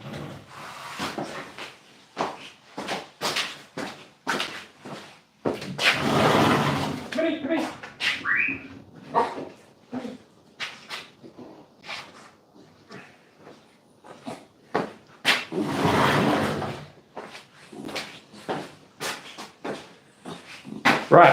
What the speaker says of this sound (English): Dog's still barking.